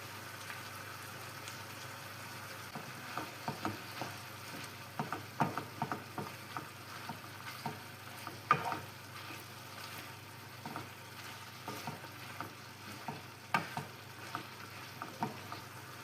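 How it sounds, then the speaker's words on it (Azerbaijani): Meat sizzles and fries in hot oil in a pan, a steady crackling hiss broken by sharp spitting pops and stirring scrapes, close and alone with no voices. "Yağ qaynara düşdükdən sonra əti əlavə edirik. Əti yaxşıca qovururuq."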